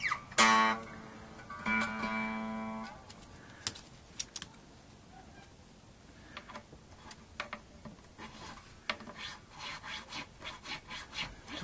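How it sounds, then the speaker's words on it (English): A file cuts the nut slots on an extra-wide six-string electric guitar converted from a seven-string. A ringing string tone comes first, then quiet scraping and a run of short, even rasping strokes near the end. "Gotta be patient when you're cutting the nut slots"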